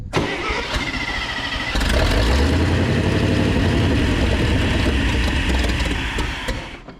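Big old 1970 International Loadstar truck engine running close by, a loud rough low rumble that settles into a steady idle, then tapers slightly near the end, with no talk over it.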